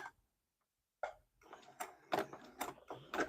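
Sewing machine stitching a quarter-inch quilt seam during paper piecing: a quick run of rhythmic mechanical clatter starting after a short pause, close and steady, with no talk over it.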